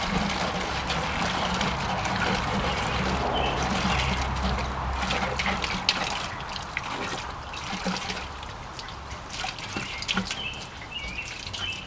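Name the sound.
gasoline dumped and sloshing into a 5-gallon bucket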